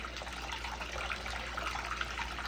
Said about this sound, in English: It's getting sucked up in through the hose. You can see the hose moving when it gurgles like that.